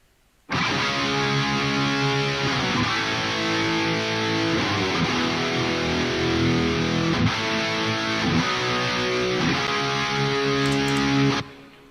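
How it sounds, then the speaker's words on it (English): Heavily distorted rhythm electric guitars strum big sustained chords through a band's verse, changing every couple of seconds, loud and thick, then cutting off abruptly at the end. "And they're playing some kind of big chords throughout the verse."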